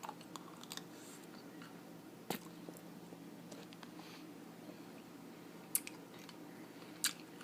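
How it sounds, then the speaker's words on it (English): Ice cubes crunched between the teeth in a quiet room: a few sharp, isolated crunches spaced several seconds apart over faint background hiss, with no talking. "I love chewing ice."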